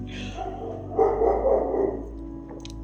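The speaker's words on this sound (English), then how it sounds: "Excuse the dogs in the background." Several dogs bark repeatedly in the background, muffled and moderately distant, in a short burst under a quiet indoor room with faint talk.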